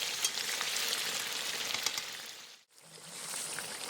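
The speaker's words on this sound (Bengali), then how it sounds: "এইভাবে নেড়ে চেড়ে সময় নিয়ে আমি মাংসটা কষিয়ে নেব।" Duck meat and fried potatoes are stirred in a hot pan, producing a dense, continuous sizzle that cuts out for a moment and then returns just as strong.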